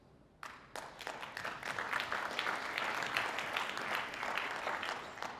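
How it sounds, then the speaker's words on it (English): Conference audience at an education keynote bursts into clapping, starting with a few sharp individual claps before swelling into a full, sustained round of applause from a large crowd that stays loud to the end. "y'all don't have to clap"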